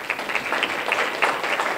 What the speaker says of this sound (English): Let's give a round of applause to Gordon Kinney,